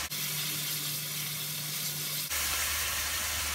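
Okra masala with yogurt sizzling in oil in a pan as it is fried and stirred, a steady close hiss that shifts in tone midway as the mixture is moved, with no voices.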